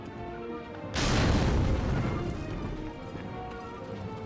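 A grenade explosion in a PlayStation 2 war game, one sudden deep boom that rolls out and slowly fades under a steady backdrop of game noise, loud and close.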